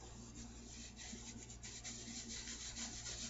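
A product is rubbed and burnished onto a tag, giving a soft, continuous scraping rub with faint rhythmic strokes at low volume and no speech.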